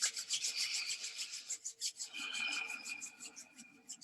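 Two hands rub together during a breathing and energy-healing exercise, producing close, soft, rhythmic rasping strokes with a short pause midway.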